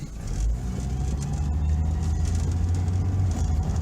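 A car with an automatic transmission is driving with a low engine rumble and a steady whir, and a hard gear shift comes through as a brief change in the drone partway through.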